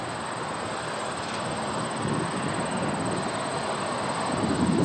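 Small radio-controlled model airplane flying during a stability test, a continuous broadband motor and propeller roar with a faint high whine, steady and fairly loud throughout, no talking.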